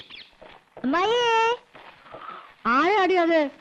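A human voice imitates a cat with two drawn-out, rising-and-falling meows, separated by a pause filled with faint background murmur, in a Malayalam film scene.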